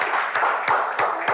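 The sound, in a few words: audience clapping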